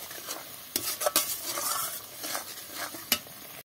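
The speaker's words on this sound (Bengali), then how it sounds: "এটা দিয়ে এইভাবে ভালো করে আরেকটু মশলাটা কষিয়ে নিতে হবে" Ground chilli, coriander and cumin being stirred and fried in a pan for a vegetarian teasel gourd dish, with repeated scraping strokes of a spoon over a continuous close sizzle.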